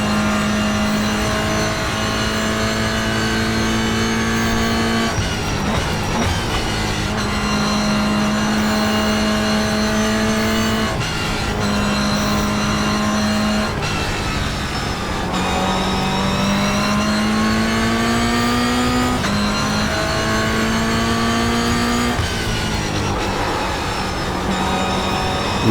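Toyota GR86 race car in the iRacing sim at Willow Springs, its engine loud and continuous, revving up through repeated climbs in pitch with sharp drops at each gear shift, no talk over it.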